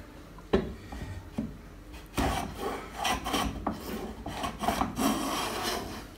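A hand plane rasps against the grain of wood in repeated scraping strokes, rough and uneven, with a few knocks, close up and fairly quiet.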